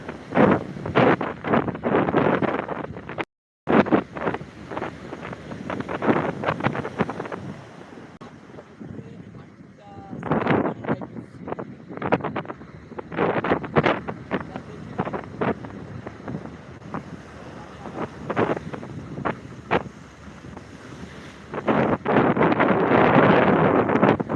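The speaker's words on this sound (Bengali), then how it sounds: "সমুদ্রে ঠান্ডা সুশীল হাওয়া তারই সঙ্গে প্রবল জলোচ্ছ্বাস সেটা তো চলতেই আছে" Cold sea wind and strong surf at Digha beach, with loud gusts buffeting the microphone and waves crashing in repeated bursts, and a brief dropout near the start.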